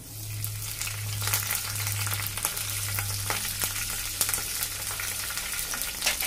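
Green chillies and curry leaves fry in hot oil for rava idli, giving a steady close sizzle and crackle with small pops and occasional stirring, and no talk.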